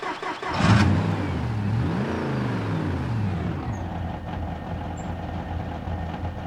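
A car engine in BeamNG.drive catches, revs up sharply with a rising roar, then settles into a steady, loud idle rumble; no talking is heard.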